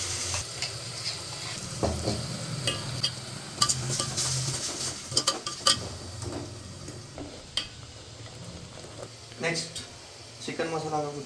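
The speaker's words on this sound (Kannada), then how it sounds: "ಈಗ ಇದಕ್ಕೆ ಪೇಸ್ಟ್ ಮಿಕ್ಸರ್ ಕಡ್ದಿದ್ದು ಹಾಕೋಬೇಕು" Ground masala paste is stirred into onions frying in a pot for biryani, with a steady sizzle, scraping spoon strokes and occasional metal clinks of utensils running throughout, under intermittent talk.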